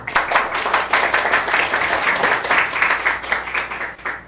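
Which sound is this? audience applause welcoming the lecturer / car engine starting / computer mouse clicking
audience applause welcoming the lecturer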